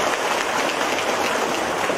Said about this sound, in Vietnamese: Một tràng pháo tay thật lớn thưa anh chị em